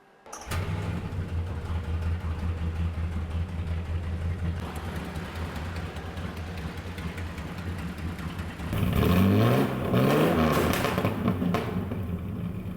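A boat V12 engine swapped into a rare SUV starts and runs, holding a steady low drone that swells louder and rougher near the end, alone with no voices.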